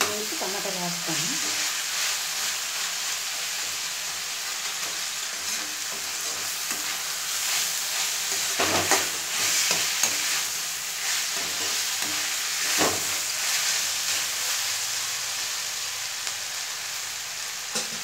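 Tomatoes fry in a pan for a curry, giving a steady, close sizzling hiss throughout. A spoon or spatula stirs them with occasional scraping knocks against the pan.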